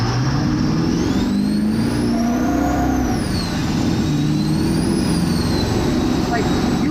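An 800-horsepower 1958 ApacheMAX Stealth truck with a turbo pulls hard under acceleration. Its engine drones loud and close, rising in pitch with a whining turbo, while people talk over it from inside the cab.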